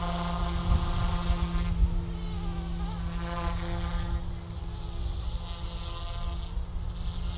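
A small RC helicopter, an OMP Hobby M2 or Blade 230s V2, hovers in light wind, giving a steady, close buzzing whine with a constant rotor hum that persists throughout without pauses.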